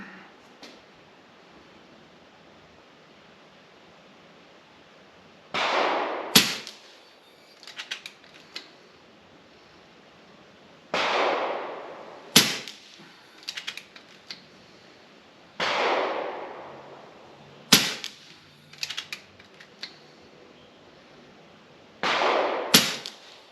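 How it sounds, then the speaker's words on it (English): FX Maverick .22 air rifle fired at the range on a 50 target, with sharp pneumatic cracks spaced several seconds apart, each followed by a short hiss and clicks of the action being cycled, close and alone. "let's go ahead and get started shooting at the 50 and see what this Maverick's up to"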